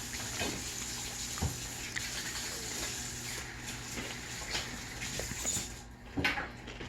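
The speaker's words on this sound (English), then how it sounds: "let me wash my hands real quick" A tap runs steadily during hand washing after handling raw meat in a kitchen, a quiet continuous rush with a few soft knocks and splashes.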